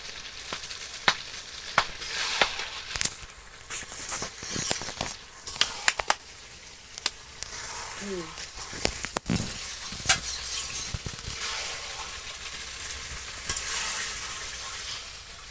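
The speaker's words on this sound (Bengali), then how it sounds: "আগে মাংস আর লাউটা ভেজে নেব" Meat and bottle gourd fry in a pan with a continuous crackling sizzle, broken by frequent sharp clicks and scrapes of a spatula stirring, close and fairly loud.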